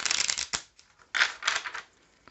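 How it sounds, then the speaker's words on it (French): A deck of playing cards being shuffled by hand, two quick riffling bursts separated by a short pause, close and fairly loud with no talking. "J'ai essayé de les mélanger comme ça déjà."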